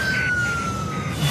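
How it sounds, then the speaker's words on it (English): An ambulance siren sounds as one sustained tone that slowly slides downward, heard at moderate distance over a continuous background rumble. "There's an ambulance on its way."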